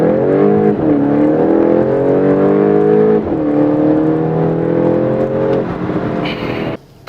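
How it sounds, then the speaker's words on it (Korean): Volkswagen Golf GTI in sport mode accelerating hard to 100 km/h, engine climbing steadily through rising revs toward 6000 rpm with a brief shift dip, loud and close for the whole stretch before cutting off near the end. "근데 이후 빠르게 속도를 회복하면서 시속 100km까지 속도를 높여주고 있습니다."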